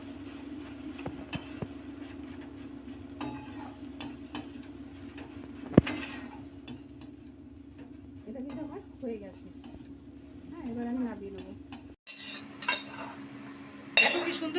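Fish roe stirred in a pan, with a spoon scraping and tapping against the metal in faint, irregular strokes over a low steady hum. A person talks over part of it.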